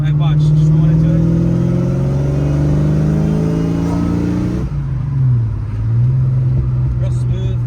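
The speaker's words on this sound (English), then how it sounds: "It's breaking up. That's because of the throttle body, though." A Saleen car engine with a sticky throttle body, loud and close, revving and rising then breaking up and stumbling before settling to a rough idle, with people talking over it.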